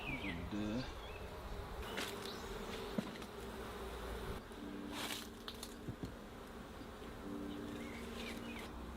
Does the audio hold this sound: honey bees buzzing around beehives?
yes